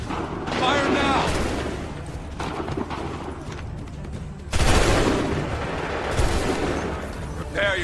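Musket volleys crack and boom across an Assassin's Creed 3 battlefield, dense overlapping gunfire with a fresh loud burst midway, under a continuous din of combat and shouting voices.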